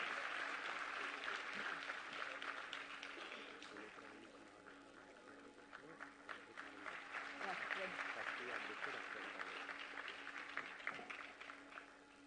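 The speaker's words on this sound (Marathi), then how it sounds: "जोरदार टाळ्या होऊन जाऊ देत." Audience applause at a Women's Day ceremony, sustained dense clapping from a crowd that fills the whole stretch, dipping briefly midway then swelling again, with a faint voice mixed in.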